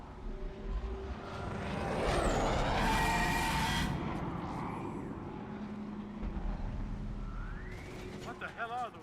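In Mass Effect 3, a gunship's engine swells in a whooshing roar, peaks, and then fades to a steady hum, with scattered game sounds and someone talking over it.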